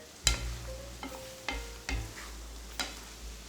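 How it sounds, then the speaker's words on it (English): Vegetables for a spaghetti sauce sauté in a pan, giving a soft sizzle punctuated by several distinct knocks and scrapes as they are tossed and stirred, close and moderately quiet, with no talking. "we're going to saute this for 5 minutes"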